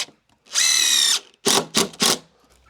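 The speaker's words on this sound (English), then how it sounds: "Putting a bit of weight down on each joist as I come back, and 2 screws in every joist location" A power drill drives stainless steel self-drilling cylinder-head screws into timber decking joists: one long high whine followed by three short bursts, close and loud, with no talk.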